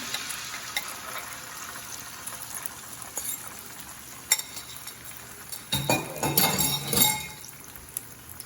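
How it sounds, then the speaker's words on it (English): Beaten eggs are poured onto a hot Blackstone 17-inch E-Series electric griddle, a soft steady sizzle building into a louder crackling frying burst near the end, close up with no talk. "So let's pour these eggs in there."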